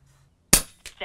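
Air gun shots fired over a chronograph: a sharp, close crack followed moments later by two smaller bursts, all within about a second, with no talk.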